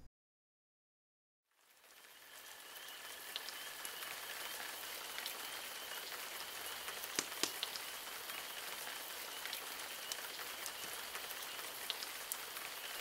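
After a moment of silence, steady spring rain falls and patters on surfaces, a soft continuous hiss with occasional sharper drops.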